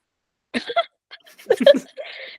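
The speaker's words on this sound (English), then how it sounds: "I'm not laughing. I'm coughing." A few short, rough coughs in quick bursts, close and fairly loud, with brief pauses between them.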